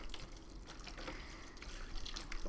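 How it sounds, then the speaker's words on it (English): Water is poured over an Enviroscape watershed model board during a classroom demonstration, a steady close splashing trickle that runs continuously at a modest level. "Pour that all over the board for me."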